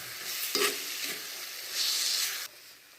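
Mashed banana and sugar are stirred in a bowl for a sweet snack, making soft wet scraping and mixing sounds in short bursts. A brief hiss stops near the end, and no voices are heard.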